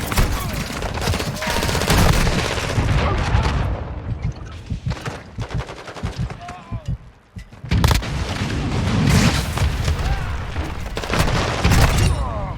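Heavy AC-130 gunship fire in Call of Duty: Modern Warfare II booms and rattles almost continuously, with dense cannon blasts and rapid bursts, and a voice talks over the barrage.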